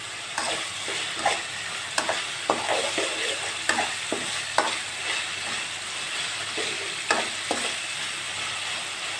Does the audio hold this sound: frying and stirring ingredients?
yes